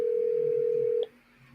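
A phone gives a single steady electronic tone for about a second while a video call is placed, then it cuts off to quiet room sound.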